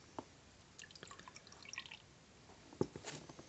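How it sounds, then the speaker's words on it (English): Cellar-temperature Sho Chiku Bai organic junmai nama sake trickles into a glass in a few faint, irregular drips and splashes, soft and close in a quiet room. "we can also pour some cold and kind of compare them"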